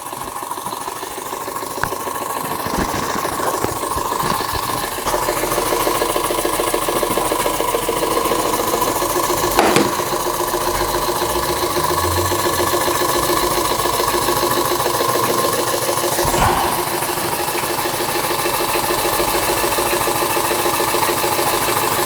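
A scratch-built overtype model steam engine runs steadily with a continuous fast mechanical chatter and whir. The sound stays loud and even throughout, with a few brief knocks.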